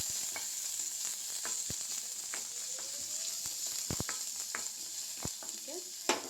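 Onion frying in hot ghee in a pan gives a steady, close sizzle and hiss, broken by sharp scraping clicks as it is stirred. No one speaks.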